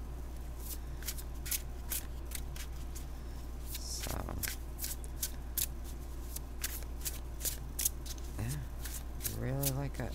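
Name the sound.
shuffling Baroque Tarot cards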